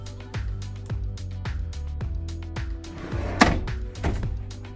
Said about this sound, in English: Easy closing drawers too,